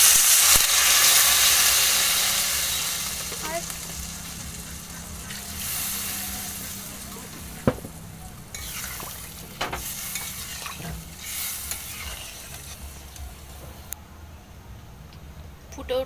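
Egg and potato curry sizzling loudly in a pan as water is added, the hiss fading to a steady simmer with occasional stirring clicks and knocks; a voice speaks briefly.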